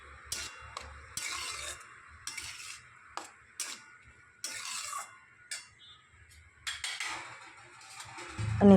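Boiled corn and carrots are sautéed and stirred in a pan, with a run of sharp utensil taps and scrapes against metal at an uneven rhythm, close and fairly quiet, without speech.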